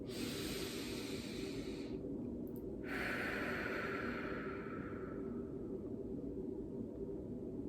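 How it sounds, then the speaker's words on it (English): A slow, deep inhalation during a guided self-affirmation exercise, a breathy hiss close to the microphone that swells, briefly pauses, then continues and fades over steady background noise. "Take a deep breath in."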